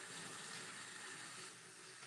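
Hot water running from a tap into a sink, a steady, even hiss of flowing water that stays close and constant for the whole moment.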